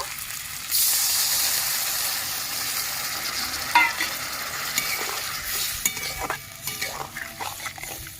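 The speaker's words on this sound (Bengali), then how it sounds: "পরিমাণ মতন জল দিয়ে দেব" Water poured into chili-powder spices sautéed in a pan for a Dhakaiya-style Bangladeshi mourala fish curry sets off a loud, steady hissing sizzle, joined later by scattered clinks and scrapes of stirring.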